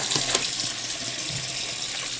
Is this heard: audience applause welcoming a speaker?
no